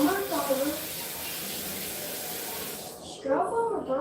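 A faucet runs in a steady splashing stream while someone washes their hands at a sink. Voices talk at the start and again as the water stops near the end.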